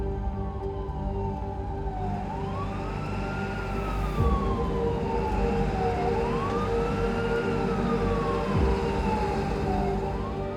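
An ambulance siren wails in slow rising and falling sweeps, steady and fairly loud over a constant engine and road rumble, with no talk.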